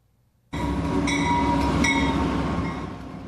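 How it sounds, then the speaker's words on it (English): An Amtrak California Zephyr passenger train heading eastbound rumbles loudly along the track, the steady rolling roar starting suddenly and holding with faint wheel squeals and rattles riding over it. "Let's hop aboard for part 2 of Amtrak's California Zephyr eastbound."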